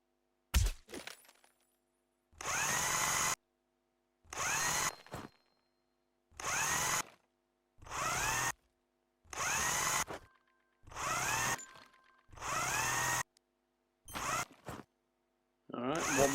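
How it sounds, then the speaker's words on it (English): A power drill in a House Builder game drives screws into a wall frame in eight or nine separate whirring bursts, each about a second long, with short silent gaps between them. "we're going to have to put the screws down"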